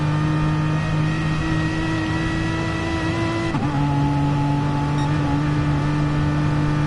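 A Corvette race car engine in GT Sport holds a loud, steady high drone, briefly dipping in pitch at a gear change before resuming its sustained whine, with no talk over it.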